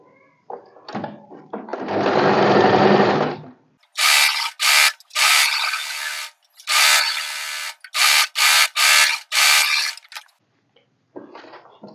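A sewing machine stitching a katori blouse runs in short stop-start bursts of rapid mechanical clatter, close and loud, with one longer whirring run early and brief silences between stitches.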